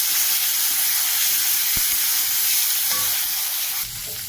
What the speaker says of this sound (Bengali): দিয়ে ভালো করে আমি কষাবো